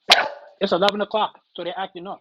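A dog barks and yips indoors in short bursts while someone talks over it at the same time.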